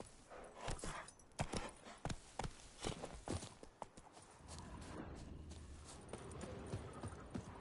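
The horse Roach gallops in The Witcher 3, a rhythmic, uneven drumming of hooves close by that settles into a steady rushing ambience partway through.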